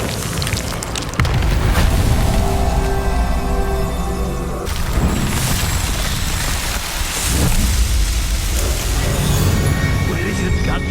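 The Bombarda blasting spell in Hogwarts Legacy goes off as a loud, booming explosion with a heavy low rumble, followed by crashing debris and further blasts in a dense, continuous roar.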